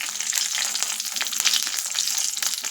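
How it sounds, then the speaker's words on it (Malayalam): Curd chillies frying in oil in a pan over low heat, a bright continuous crackling sizzle with rapid pops and small spatters, close and steady throughout. "എന്നിട്ട് ഈ തൈര് മുളകെല്ലാം ഒന്ന് വറുത്തെടുക്കാം."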